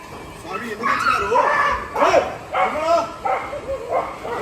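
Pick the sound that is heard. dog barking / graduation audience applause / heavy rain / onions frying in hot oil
dog barking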